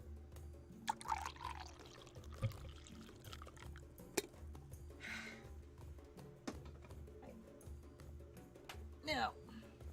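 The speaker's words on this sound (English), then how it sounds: "hold on, pouring some coffee" Coffee poured into a cup, a soft liquid stream and trickle heard close up, with a voice talking at moments around it.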